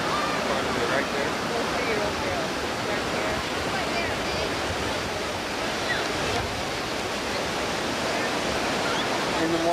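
Continuous roar of ocean surf where children play in the waves at a beach during a family reunion, with steady broadband wash throughout and faint voices mixed in.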